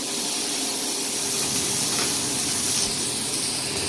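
Vegetables sizzling in olive oil in a pan, a steady close hiss and crackle that runs evenly for a few seconds with no voices.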